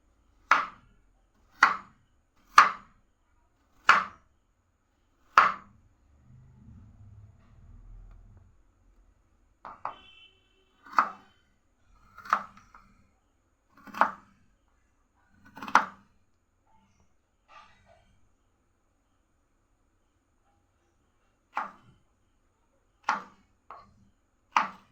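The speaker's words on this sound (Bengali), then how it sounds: "এরকম লম্বা করে আলুগুলোকে কেটে নেব" A knife cuts small peeled potatoes lengthwise into long pieces, giving sharp, clean chops against a board in spaced bursts, separated by a short low scraping pause and a few quiet gaps, close and otherwise silent.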